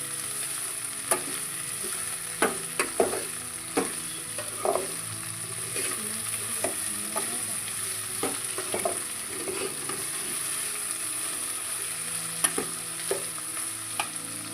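Chopped mixed vegetables frying in a pan with a spoon scraping and stirring through them in irregular clinks over a steady sizzle, close and alone with no voices.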